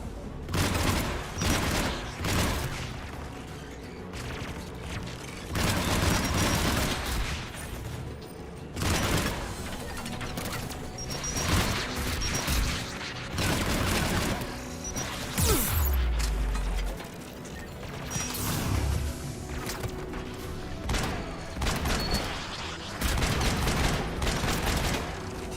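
Anti-aircraft guns fire in Mass Effect 3 in rapid, repeated bursts of gunfire, with a deep boom partway through amid clanking mechanisms, all fairly loud and continuous.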